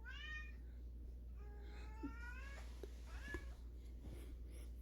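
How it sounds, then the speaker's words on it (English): A house cat meows several times, with drawn-out, rising calls spread across a few seconds, faint and set against a steady low hum, with no talking. "Excuse the kitties. She's having one of her mornings."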